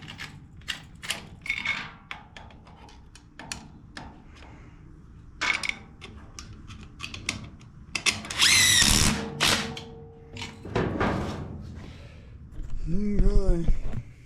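A power tool runs a bolt down on a Snapper rear-engine rider mower clutch in short whirring bursts with ratcheting and clanks, amid nearby talk and other workshop handling noises.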